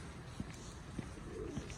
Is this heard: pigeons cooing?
yes